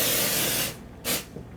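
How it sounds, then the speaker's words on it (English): Repositionable stencil adhesive is sprayed into a jar from an aerosol can in two bursts, a long loud hiss that cuts off, then a shorter second spurt, with no talk. "I'm going to use this new product called Pixie Spray, and it's going to be a repositionable adhesive for the back of your stencil."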